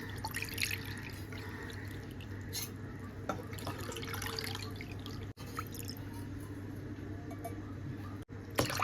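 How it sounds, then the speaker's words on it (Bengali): Water poured steadily into a cooking pot, four bowls' worth heated for Basanti pulao, a continuous close trickle with a few drips and small breaks. "এরকম আমি 4 বাটি জল এখানে গরম করতে দিয়ে দেবো"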